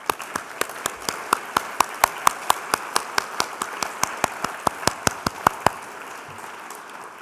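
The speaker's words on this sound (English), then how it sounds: "Let's reward them with a great round of applause." Steady, evenly spaced claps from a small audience at an awards ceremony, crisp and close, fading away near the end.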